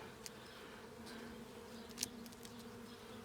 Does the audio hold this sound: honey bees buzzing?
yes